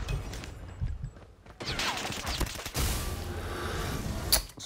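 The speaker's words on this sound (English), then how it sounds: "Somebody using SKS." SKS rifle shots in the mobile shooter Call of Duty Mobile, a few sharp cracks ringing out amid game clatter and mechanical noise, moderately loud with no talking.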